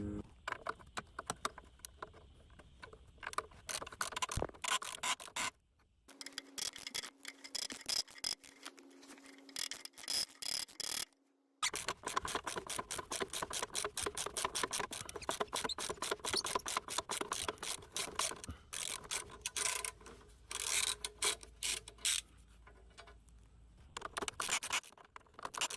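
Catalytic converter bolts of 14 mm and 13 mm on a 2014 Chrysler Town and Country being loosened, heard as close, quiet bursts of rapid ratchet clicking with brief pauses in between.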